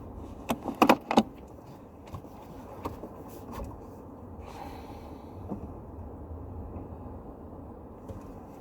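A Toyota Camry Hybrid pulls over and parks at the Mount Panorama circuit in Bathurst. A low, steady cabin rumble runs throughout, with a few sharp clicks and a rattle near the start, and no talking.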